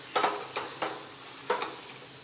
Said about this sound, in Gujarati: આને સરસ મિક્સ કરી લઈશું।